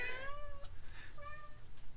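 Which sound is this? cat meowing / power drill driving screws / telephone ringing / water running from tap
cat meowing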